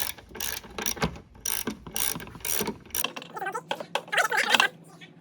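Close mechanical clicking and ratcheting from removing the top bolts on a car's coilover suspension, a quick run of sharp ratchet clicks followed by softer metallic rattles and a small snap.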